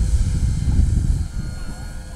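A 1/7-scale Sopwith Camel RC model biplane with a large-diameter propeller comes in to land, its engine droning low and steady close by, easing slightly toward the end, while people talk over it.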